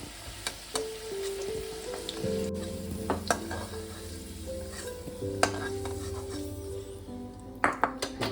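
Potatoes frying in oil in a wok, a steady soft sizzle broken by scraping stirs and occasional metallic taps of a utensil against the pan, close and fairly quiet.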